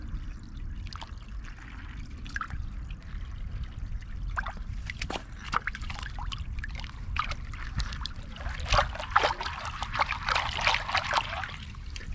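Creek water trickling and pouring through a narrow channel beneath the demolished Lanett Mill, a continuous close splashing flow with small bursts and drips, no voices.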